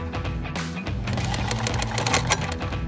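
Sewing machine stitching fabric for pet pillows and blankets, running steadily and close with a fast rattling mechanical rhythm throughout, alone without speech.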